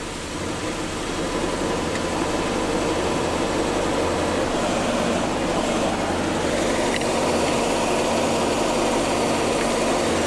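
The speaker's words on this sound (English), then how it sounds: "somebody using that Bobcat to jack it up for me" A Bobcat skid-steer loader runs steadily while jacking up a vehicle for a tire change, a constant loud engine drone with broadband noise throughout and no voices.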